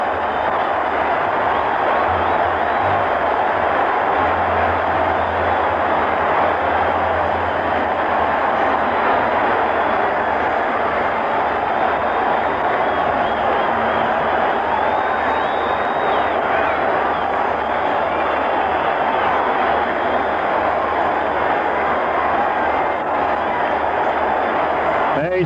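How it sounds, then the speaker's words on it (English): A large Yankee Stadium crowd roars in a sustained ovation after a game-tying home run in the 1977 ALCS, the dense cheering steady and loud throughout with no clear speech. "Listen to that crowd."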